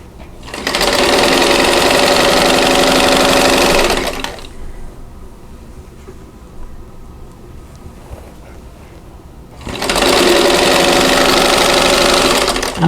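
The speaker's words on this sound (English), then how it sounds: "sew my last 2 pieces together" A sewing machine stitches two quilt fabric pieces together for an owl block, a loud steady motor whir in two long bursts with a quiet pause between them.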